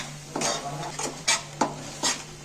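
A spoon scrapes and knocks against a pan while paneer curry with spinach fries, five distinct stirring strokes over a steady low sizzle.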